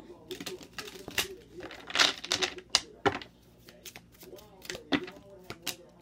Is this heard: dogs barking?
no